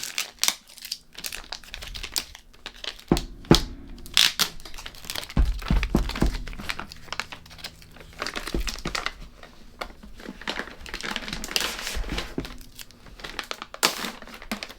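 Plastic packaging and tape on a Black Series collectible box crinkle, tear and crack in close, irregular bursts, with scattered thunks and rustling between.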